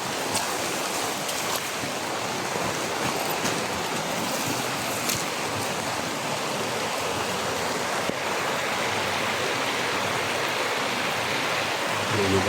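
Steady rushing water flows continuously, a broad even wash of sound like a stream or surf, loud and close with no breaks and no voices.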